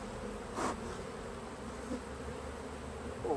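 Honeybees buzz steadily from an opened hive during an inspection, a soft continuous drone with a brief louder rustle or knock near the start and a few faint individual bee passes.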